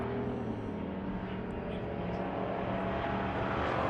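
A race car on a short-track oval during a track championship at a speedway, its engine droning and buzzing steadily at a constant loud level throughout, with no clear rise or fall as it passes.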